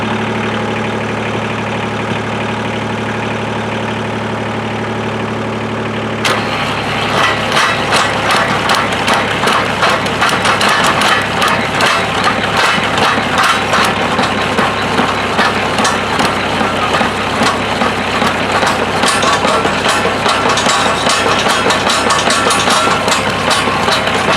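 A farm tractor's diesel engine on a fence-line job idles with a steady loud drone, then a sharp jump at about six seconds brings a rougher, louder running with a rhythmic knocking pulse that holds to the end.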